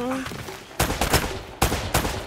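Several sharp gunshots ring out in the video game Uncharted, about three loud cracks spaced unevenly over a couple of seconds, with brief game sounds between them.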